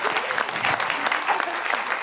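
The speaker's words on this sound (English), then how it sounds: "I wanted to give our panelists a round of applause" An audience claps for panelists at a retail and e-commerce discussion event, a dense patter of applause from a moderate crowd lasting about two seconds at steady volume.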